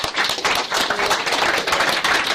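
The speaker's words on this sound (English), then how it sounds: "So let's give them a round of applause for that as well" Steady applause from an audience at an amateur astronomy night, a dense, continuous wash of many hands clapping close by throughout.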